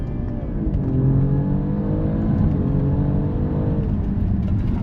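An Alfa Romeo Quadrifoglio engine in dynamic mode revving hard and climbing through the range under acceleration on a race track, loud and close, with a steady roar and no voices.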